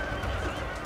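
A horse in a Total War: Shogun 2 battle gives one short, close whinny, loud and alone under a rumbling battlefield bed.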